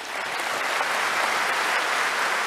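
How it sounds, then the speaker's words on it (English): A lecture audience gives a warm round of applause for a geology professor's medal award, steady dense clapping at close range and unbroken by talk. "Please give another round of big applause to Professor Gehrels."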